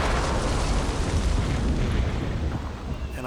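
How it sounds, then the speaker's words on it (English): Artillery shells land in the WWII strategy game Combat Mission Battle for Normandy as a continuous, loud, roaring barrage of explosions. Its heavy low booms are blended into a dense wall of sound that barely changes in level. "We do have some artillery coming in to try and take out that last artillery piece"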